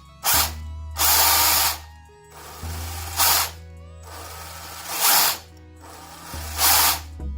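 An FTX Banzai RC drift car set up for rear-wheel drive, its electric motor whining up in five or six short loud bursts of acceleration separated by brief pauses.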